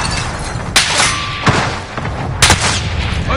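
Video game gunfire in a chaotic multiplayer battle, with sharp shots at about 0.8, 1.5 and 2.5 seconds rising over a dense, continuous rumble of combat noise.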